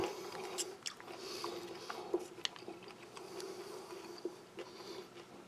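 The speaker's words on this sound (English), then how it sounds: "I'll just try a little bit of the biscuit in there as well." Someone chewing a crunchy biscuit from a French military ration, with close, moist crunches and bites in an irregular rhythm against a quiet background.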